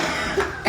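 Two close coughs from one person indoors during a house update, a rough burst near the middle and a sharper one at the end, fairly loud and with no talking.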